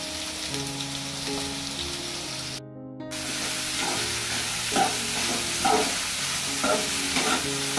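Sliced bitter gourd fries in hot oil with a loud continuous sizzle, while repeated spoon stirs scrape and clatter close by, over a low steady hum and a brief drop out midway.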